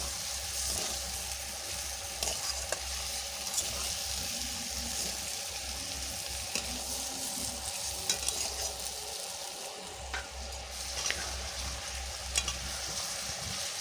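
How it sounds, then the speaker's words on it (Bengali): Chicken being stir-fried as kosha for a Bengali curry, with a continuous soft sizzle and occasional scrapes and clinks of stirring in the pan, steady and fairly quiet. "এবার মাংসটাকে খুব ভালো করে কষিয়ে নেব।"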